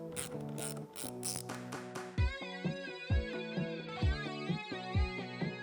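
A 10mm socket ratchet loosens the battery terminal nut on a Jeep Wrangler JK, giving rapid close clicking pawl sounds, then a steady series of slower individual ratchet strokes at an even rhythm.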